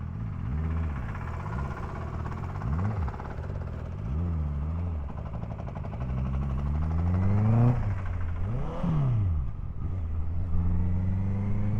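A superbike engine idles and revs, steady throbbing with repeated rising and falling throttle blips, loud and close, running alone without talk.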